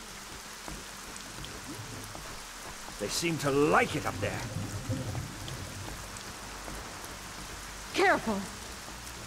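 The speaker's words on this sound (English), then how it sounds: "Damn rain!" Steady rain hisses across the ground in the video game ArcaniA Gothic 4, a constant soft wash beneath two short bursts of talk.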